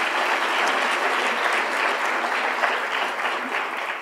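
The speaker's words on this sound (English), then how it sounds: "big round of applause" Sustained applause from an audience at a design talk with Ronan and Erwan Bouroullec, steady dense clapping held at an even level for about four seconds with no speech over it.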